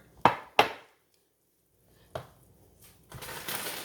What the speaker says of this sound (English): So I'm gonna go ahead and put my carrots and peas in here